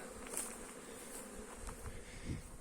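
Honey bees buzz faintly around a hive pavilion, a low continuous drone with individual insects passing close now and then.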